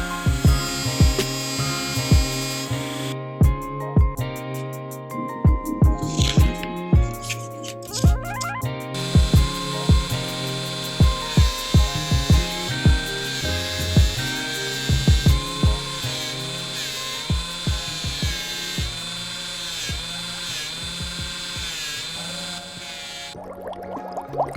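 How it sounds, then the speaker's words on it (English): A Dremel Stylo rotary tool for polymer clay jewelry runs with a thin, steady whine, broken by repeated clicks and short bursts as it starts, stops and changes speed, heard close and alone. "is the Dremel Stylo. It has 6 speed settings, interchangeable heads, and it's great for drilling holes"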